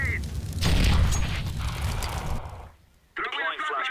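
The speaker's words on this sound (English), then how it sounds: "I am throwing a grenade" In Counter-Strike: Global Offensive, a grenade bursts with a loud boom and a long rumbling tail that fades into near silence, then a voice speaks.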